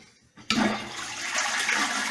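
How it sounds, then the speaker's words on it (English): A toilet flushes up close as water is drained from the bowl before replacement: a click of the handle, then a sudden loud rushing gush that keeps churning steadily to the end. "we try and get as much water out of the toilet as possible"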